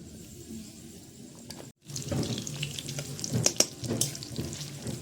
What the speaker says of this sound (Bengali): তেলটা পুরাই ফুটছে